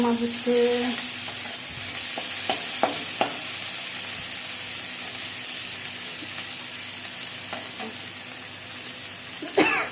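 Spices sauté in oil for a potato curry, a steady close sizzle with scattered spatula taps and scrapes, ending in a sharp clatter, with no talking.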